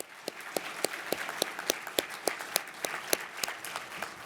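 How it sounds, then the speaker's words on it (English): Audience clapping at the Cast in Steel 2025 awards livestream, a small group applauding with distinct, fairly regular claps standing out over a softer patter, close and moderately loud. "Let's give them another round of applause."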